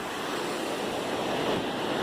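A river on the Appalachian Trail near the New Hampshire–Maine border rushes downstream in a steady, broadband roar of water, continuous and fairly loud with no voices over it.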